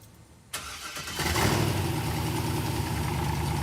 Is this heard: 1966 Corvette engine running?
yes